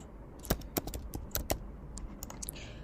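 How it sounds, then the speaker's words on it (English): Typing on a computer keyboard while designing in Figma, a handful of sharp, irregular key clicks close up, spaced out over a few seconds against a quiet background. "I'm going to hit T on my keyboard and I'm going to type portfolio."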